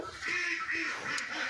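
Khaki Campbell ducks on a farm give a short burst of nasal quacking, a few overlapping calls close by and fairly faint, with no talking.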